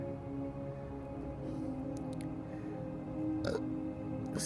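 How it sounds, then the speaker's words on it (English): A man's burp during an outdoor bonsai root-pruning and repotting session, a single fairly low, short eructation partway through, heard close against a steady background hum with no speech. "Excuse me, I had to burp there, sorry."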